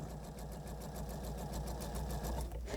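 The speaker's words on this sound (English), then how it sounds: "I'm going to sew to the end and stop so I can chain piece" Sewing machine stitching fabric while chain piecing a flying goose quilt block, a steady, rapid mechanical whir running close and continuous from start to end.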